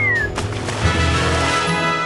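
A cartoon cat meows loudly in a My Little Pony video game, one drawn-out yowl over game music and sound effects.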